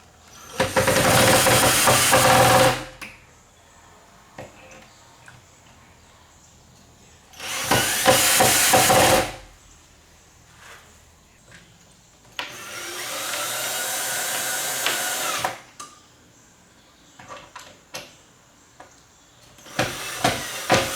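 A power drill drives screws into a wooden van kitchen frame in loud, close bursts of a few seconds each, separated by quieter pauses with small handling noises.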